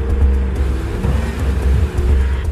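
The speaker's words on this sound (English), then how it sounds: "Several witnesses recall hearing the truck's engine revving loudly" Pickup truck engine revving loudly, a close, heavy low rumble that swells and surges in repeated waves of throttle, with no voices.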